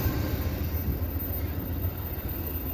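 Passenger train on track 2 at Alexandria station, heard as a low, steady rumble at moderate distance with no voices.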